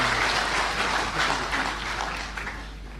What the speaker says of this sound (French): Et je pense qu'il mérite un applaudissement, tous les membres du comité organisateur.